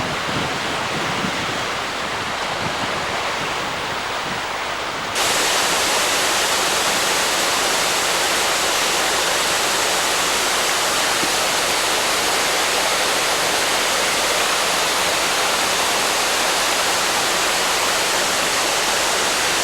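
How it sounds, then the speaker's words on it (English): A wild river in Scotland rushing past, a dense, loud, unbroken roar of churning water heard close up, growing fuller after a few seconds and carrying on steadily with no voices. "The river wild."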